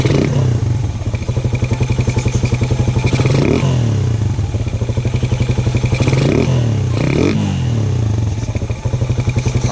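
Carburetted motorcycle engine idling steadily after new carburetor jets are fitted and tuned, a close, continuous rhythmic putter with a few clattering thumps and brief rev swells.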